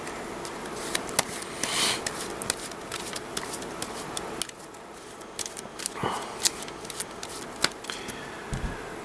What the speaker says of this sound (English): And we're going to have to shuffle.